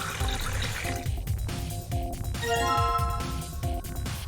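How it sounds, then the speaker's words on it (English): A faucet connected to a water storage tank runs steadily, a close splashing and gurgling stream that continues throughout, with tonal background music alongside. "Got a faucet and it's connected to the water storage."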